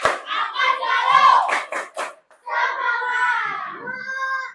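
A group of schoolchildren shouts a rhythmic classroom clapping cheer together, with voices chanting in unison, a few sharp claps in the middle, and a short pause before the chant resumes.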